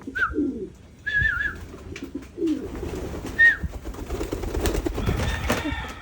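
Pigeons during basic free flight training: a few soft coos and calls come in short bursts over a rustling, shuffling background, with a burst of wing-flapping toward the end, fairly close.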